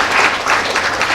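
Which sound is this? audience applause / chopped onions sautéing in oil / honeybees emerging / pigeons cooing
audience applause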